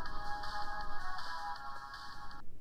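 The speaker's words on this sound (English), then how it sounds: "Someone's phone." A phone ringtone from the video game The Closing Shift plays a repeating electronic melody for a couple of seconds, then cuts off abruptly, with no voices over it.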